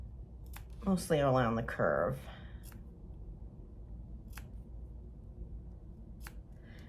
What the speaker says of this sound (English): the next step is to clip this seam. So what I'm gonna do is just cut to, but not through that stitch